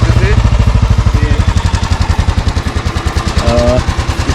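A 1978 Indian-made Enfield single-cylinder motorcycle engine thumps at a steady, even idle, loud and close, with a brief voice cutting in near the end.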